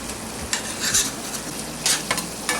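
Shrimp masala sauce with homemade hot mustard bubbles and sizzles as it reduces in a pan, with a steady close hiss broken by a few scrapes and clinks of a stirring utensil.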